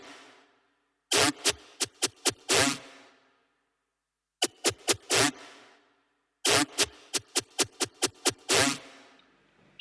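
Synth bass drop sound built from a Serum bass preset: loud, noisy stuttering bursts in three rhythmic phrases, each made of rapid chopped hits separated by short silences, heard up close with no voice.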